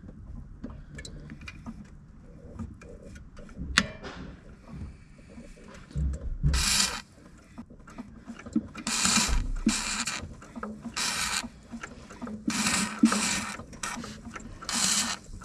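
A Subaru manual transmission clutch pedal being pumped, producing a run of repeated creaking and ratcheting mechanical bursts at close range, with short bright squeaks recurring roughly every second toward the end.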